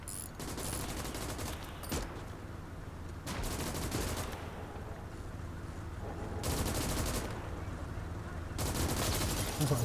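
Sustained battlefield gunfire in the strategy game Gates of Hell, Soviet campaign, with overlapping machine-gun bursts and rifle shots rattling loudly in waves, brief lulls between heavy rapid volleys.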